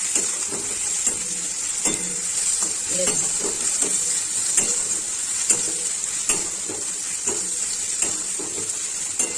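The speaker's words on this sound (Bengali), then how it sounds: "এখন রসুনটা একটু ভালো করে হাই ফ্লেমে একটু ভেজে নেব।" Garlic paste frying on high flame in a pan for a Bengali red chicken curry, a steady close sizzle punctuated by regular scraping stirs, with no talking.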